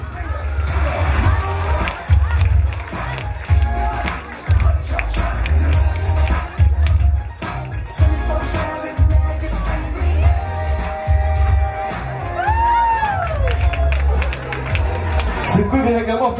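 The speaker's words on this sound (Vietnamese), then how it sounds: "put your hands together for Nhâm and Ni" Wedding reception guests clap and cheer for the bridesmaid and groomsman in a loud, sustained burst of crowd noise with whoops and chatter. Over it a host's voice carries through the hall with music playing.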